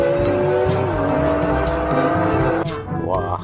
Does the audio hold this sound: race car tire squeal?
yes